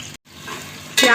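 Onions for chicken biryani hit a cup of hot oil, and a loud, close sizzle bursts up after a brief stir and a moment of quiet.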